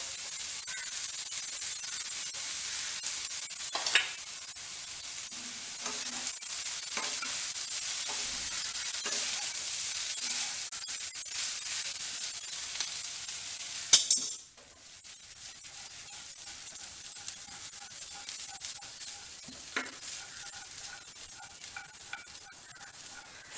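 Cooked rice for gobi egg rice stirred and roasted in a pan over low flame, a steady hiss of sizzling with occasional scrapes of a spoon, dropping to a quieter sizzle midway, close and alone.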